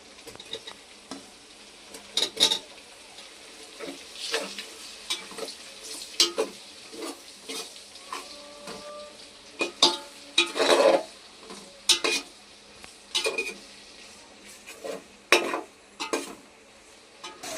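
Spice paste and chopped tomatoes fry in a pan for mutton biryani, stirred in scattered scraping strokes over a soft, steady sizzle. No one speaks.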